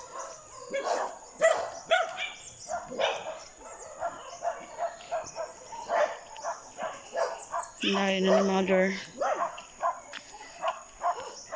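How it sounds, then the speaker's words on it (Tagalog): Angry dogs bark repeatedly at people passing along a path, sharp and close, in rapid bursts, while several people talk and a loud whistle-like tone rises briefly midway. "Galit na galit yung mga aso."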